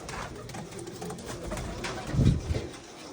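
Pigeons in a loft giving soft, low cooing calls, one fuller coo swelling near the end, close by over a faint background with no talk.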